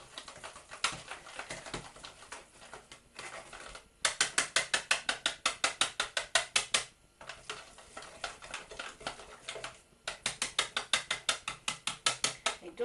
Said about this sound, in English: So we're going to whisk this like mad to get it smooth.